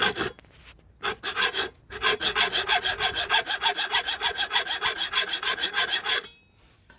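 A hacksaw blade cutting a bolt shorter on a picnic table, close and crisp, with a few tentative strokes then a fast, even run of rasping back-and-forth strokes before stopping.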